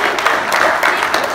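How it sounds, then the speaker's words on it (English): Applause from the audience at a San Diego Comic-Con panel, a brief burst of dense, loud clapping. "Right now, a big round of applause"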